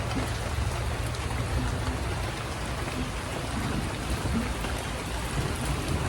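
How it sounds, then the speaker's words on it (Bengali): Light village rain falling steadily, a close, even hiss of drops on surfaces with a low rumbling undertone throughout, no voices. "বৃষ্টি হইতেছে হালকা হালকা, এর থেকেও বেশি বৃষ্টি হওয়া দরকার ছিল।"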